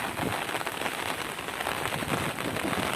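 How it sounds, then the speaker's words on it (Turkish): Dense, steady downpour of heavy rain in İzmir pattering on surfaces, loud and continuous throughout, with no voices. "Şu an pantolonumu bu hale getirebilecek derecede yağmur yağıyor."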